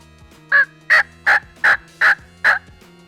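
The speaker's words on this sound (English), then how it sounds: "The plain yelp, it won't have a whole lot of emotion in it." Six evenly spaced plain yelps from a wild turkey hen, clear and close, each short and raspy, with a quiet low hum in the background.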